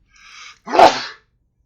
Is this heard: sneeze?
yes